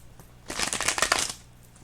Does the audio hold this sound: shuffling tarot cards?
yes